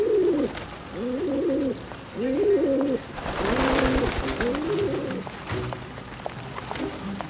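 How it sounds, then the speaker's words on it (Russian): Pigeons coo close by in a series of repeated soft, throaty, rolling calls over a steady outdoor background. "Всех голубей распугали."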